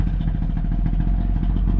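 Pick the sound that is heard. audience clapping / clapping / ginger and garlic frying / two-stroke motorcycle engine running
two-stroke motorcycle engine running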